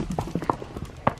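Hooves of a 3-year-old horse clip-clop on hard ground as she is led out to the field, several close, moderately loud steps in an uneven walking rhythm.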